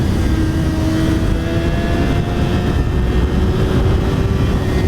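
A 2020 Suzuki GSXR1000 motorcycle engine drones steadily and loudly with a rising whine during a quick acceleration, with heavy wind rush over it and no talk.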